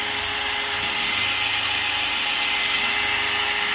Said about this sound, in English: run a regular drill on low speed, and just turn it